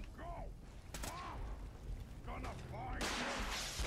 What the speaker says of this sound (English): Oh, he has a rocket launcher.